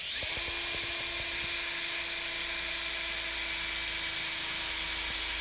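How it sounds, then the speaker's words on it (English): An electric drill bores out holes in the sheet-metal roof of a Chevy Astro van during a roof fan install. Its loud, high, steady whine holds close and constant, with a few faint knocks near the start. "We'll go around and we'll drill out these holes."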